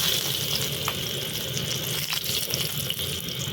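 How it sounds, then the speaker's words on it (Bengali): Panch phoron spice mix and dried red chilli crackle in hot oil left from frying rohu fish, a steady bright sizzle with a few small pops. "ওই মাছ ভাজা তেলেই আমরা ফোড়ন দিচ্ছি, 5 ফোড়ন ও শুকনো লঙ্কা"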